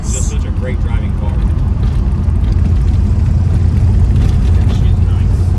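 A 1987 Ford Thunderbird with long tube headers runs with a loud, steady, deep rumble throughout, heard from inside the car during a test drive, with voices over the engine note.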